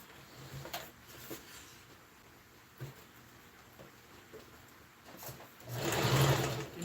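A sewing machine sews gathering stitches in organza fabric, with faint, scattered mechanical ticks that build into a short, louder whirring run near the end.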